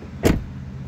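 A Mercedes-Benz CLA locks with keyless entry at the door handle, giving a single short, close mechanical clunk followed by a faint residual hum.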